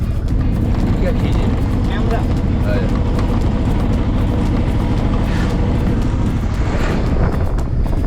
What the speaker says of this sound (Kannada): ಯಾವುದೋ ಒಂದು ಪ್ಯಾಸೆಂಜರ್ ಆಟೋ ಬಂತು ಆಟೋದಲ್ಲಿ ಹೋಗ್ತಾ ಇದ್ದೀನಿ